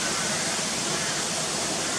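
Janet's Foss waterfall pours in a steady, dense rush of broadband water noise, continuous and fairly close, with no voices over it.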